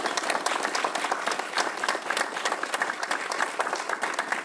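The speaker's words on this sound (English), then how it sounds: "let's give the congressman a round of applause" An audience in a Cathedral High School hall claps for a congressman during a FEMA press conference, a thick, continuous patter of many hands at close range.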